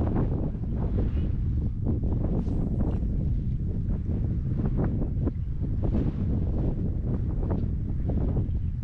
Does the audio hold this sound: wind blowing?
yes